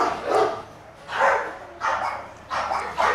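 A 17-week-old Bully Kutta puppy barks four times in a slow, evenly spaced series, each bark loud and close, with no talking.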